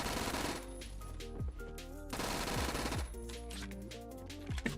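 Rapid bursts of submachine gun fire from hip firing at close range in Phantom Forces, dense rattling volleys with short pauses between them, loud and close.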